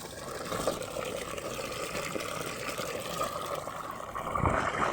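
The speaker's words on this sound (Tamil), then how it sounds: "நல்லா கைவிட்டு கலக்கணும் கலக்கினோன்னே அது நல்லா கரைஞ்சிடும்" Ash stirred by hand into water in a container sloshes and swirls, a steady liquid churning with small splashes throughout, close by, without speech.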